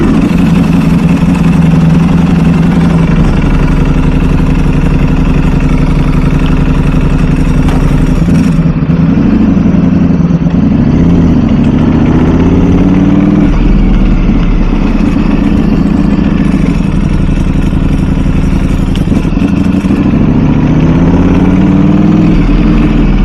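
Ducati motorcycle engine running close by: a loud, steady idle with a couple of brief revs that rise and fall in pitch, and no talk.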